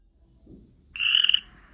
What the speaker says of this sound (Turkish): Frog, kurbağa.